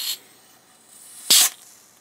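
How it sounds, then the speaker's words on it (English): Cold spray hissed onto the circuit board of a Nikko NR-700 stereo receiver under repair: one short, close, loud burst lasting a fraction of a second, preceded by a brief faint spritz. "So what I did is I hit it with some cold spray."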